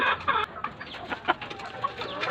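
Hens cluck in short, scattered bursts, several birds close by with soft farmyard noise underneath.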